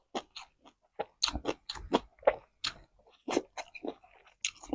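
Close, crisp chewing of crunchy crispy fried food with raw greens, a rapid run of loud crackling bites and crunches in uneven bursts separated by short pauses, with no talk.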